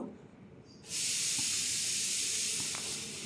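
Potato pieces frying in hot oil in a kadai for a Bengali mutton curry: after a quiet start, a loud, steady broadband sizzle bursts in and holds for the rest of the clip, close and continuous with no talk.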